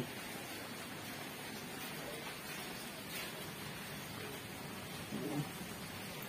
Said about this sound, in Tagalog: So, yan, umuulan.